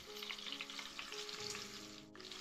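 Onion and spice masala fry in hot oil for a crab curry, giving a steady, soft sizzle with a faint hum beneath it and a brief dip near the end.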